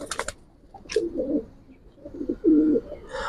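Giribaz pigeons coo softly and close by in two short bursts, with small rustles and clicks in an otherwise quiet space.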